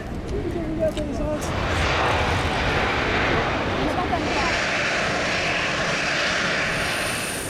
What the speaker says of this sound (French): l'appareil d'Air Madagascar fait son entrée de notre espace aérien